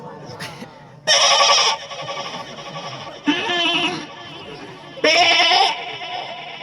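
A goat bleats three times in loud, close, wavering cries spaced a couple of seconds apart, with quieter background noise between them.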